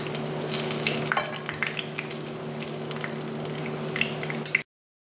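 Turkish minced-meat boreks frying in sunflower oil over low-to-medium heat, a steady close sizzle and crackle with occasional pops and a faint steady hum beneath, ending abruptly in silence, no talk.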